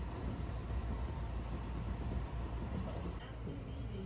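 A train running on a Nara line out of Kyoto, a steady close rumble of wheels and carriage noise filling the cabin, with no voices.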